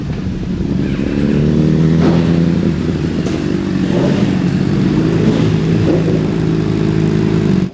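A Honda CBR600 sport bike ridden on a race track, its engine droning loud and steady at high revs with small shifts in pitch, close and continuous, no voices.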